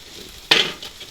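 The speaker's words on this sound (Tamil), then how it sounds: "வெங்காயம் வந்து பொறிபட்டு கொண்டிருக்குது." Onions hitting hot oil in a pan at a Jaffna village cooking setup for chicken noodles, a sudden close burst of sizzle that fades quickly within about a second, no voices.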